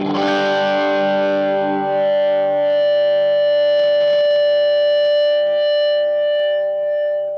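An electric guitar through a Rat-style distortion pedal, a single loud, buzzing chord struck hard and left to ring and sustain evenly for several seconds.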